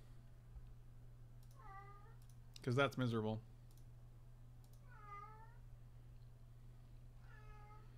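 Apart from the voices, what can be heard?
cat meowing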